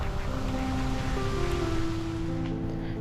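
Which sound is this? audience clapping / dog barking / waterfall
waterfall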